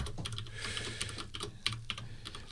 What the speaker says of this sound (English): I'm logging in. You hear that typing?